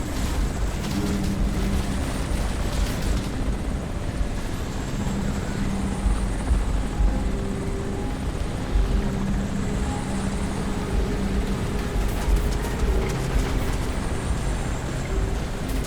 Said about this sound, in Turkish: Roketler olsa helikopter oldu vuracaktım.